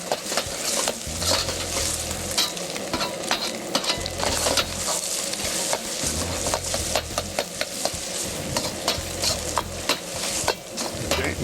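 Shredded beef stir-fried in oil, a loud continuous sizzle close up with rapid, repeated scraping and clattering of a utensil against the pan throughout.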